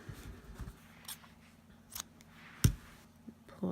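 Scissors snip through crochet yarn in one sharp cut near the end, among a few lighter handling clicks and rustles, close and fairly quiet.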